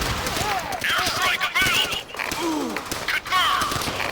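Sniper rifle gunfire in the video game Call of Duty: World at War, sharp shots and battle noise mixed with groans and voices in a busy, loud combat scene.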